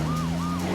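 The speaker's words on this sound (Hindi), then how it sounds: "वो देखो, पीछे पुलिस की गाड़ी" A police car siren wails in a short burst of rising and falling tone over a low engine hum, loud and close.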